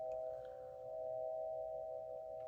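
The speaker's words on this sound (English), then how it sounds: "These are called swing chimes." A faint, sustained metallic tone from swing chimes rings on steadily and evenly for a couple of seconds in a quiet room.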